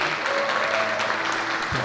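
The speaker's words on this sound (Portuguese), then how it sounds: "Vamos aplaudir, querido." Church congregation applauding during a family worship service, a steady dense wash of clapping lasting the whole moment with a faint tonal hum underneath and no clear talk.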